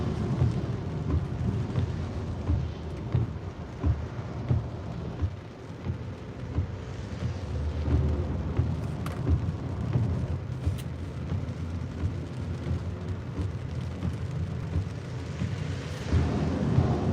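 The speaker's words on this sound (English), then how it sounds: "Wow, we got some really loud thunder." Loud thunder rolls through a Pennsylvania thunderstorm as heard from a car in traffic, deep rumbling over steady rain with continuous dense noise throughout.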